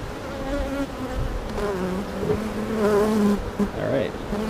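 Honeybees in an open hive during a beekeeping inspection make a dense, steady buzz close by, with some louder passes that swell and fade.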